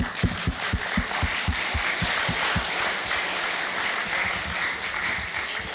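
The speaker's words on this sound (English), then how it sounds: "You guys clap for him?" An audience claps for Isaac at a Peace Bus gathering: a burst of separate, fairly close handclaps over the first few seconds, thinning into a steady wash of crowd noise.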